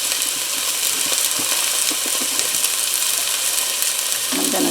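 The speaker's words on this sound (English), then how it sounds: "the olive oil is heated up pretty good. We're going to put in our onions." Chopped onions and garlic frying in hot olive oil, a loud continuous sizzle with crackling pops throughout, close up and alone.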